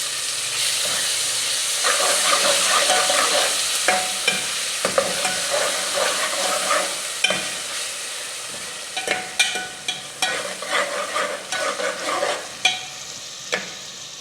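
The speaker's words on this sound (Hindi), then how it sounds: "ये 1 टमाटर है, इसे आप इसमें घुमा दें" Tomato being stirred into dal chana frying in a pan, dhaba style: a steady loud sizzle with scraping spoon strokes that grow busier and more rhythmic toward the end, with no voices.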